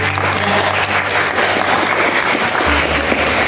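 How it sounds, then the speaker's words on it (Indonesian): Audience at an educational training session in Garut applauding; dense, even clapping continues throughout, with a low hum and a faint voice near the end. "Beri tepuk tangan."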